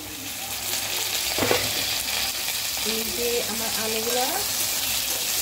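Potato pieces frying in a pan with a loud, steady close sizzle and occasional stirring scrapes, joined midway by a faint background voice.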